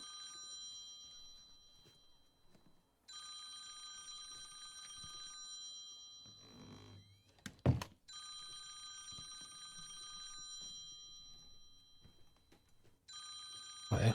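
A telephone bell rings in the video game Conway: Disappearance at Dahlia View, loud repeated trills separated by pauses, with a short thump between rings and a player's voice faintly underneath.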